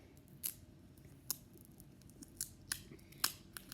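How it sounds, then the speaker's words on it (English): Scissors snip a small piece of duct tape in a quiet room, five or six sharp, separate cuts spaced irregularly over a few seconds with low background hiss. "So just cut off a small piece of duct tape"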